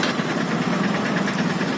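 Motorcycle engine idling at a roadside police check, a steady close rumble with a fast, slightly knocking pulse that stays even throughout, with no voices.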